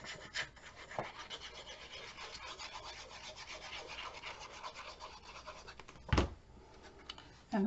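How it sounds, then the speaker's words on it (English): Paper edges being rubbed and smudged during a Halloween-themed papercraft project, a soft, close, continuous scratchy rasp with a sharper scrape near the end, no talking. "I'm going to go ahead and burnish, or smudge, sorry, all of my edges"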